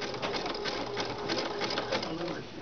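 An Allure sewing machine stitches over cording guided under the presser foot, giving a steady, continuous mechanical whir that runs close and fairly loud throughout, slightly easing near the end.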